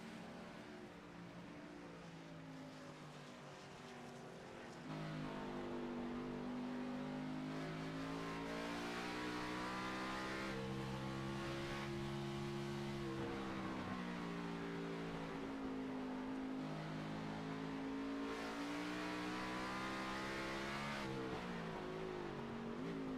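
Race car engines in the iRacing Shoney's 70 sim race hold a loud, continuous high drone that climbs and falls through the gears and turns, with a jump in level early on and no voices.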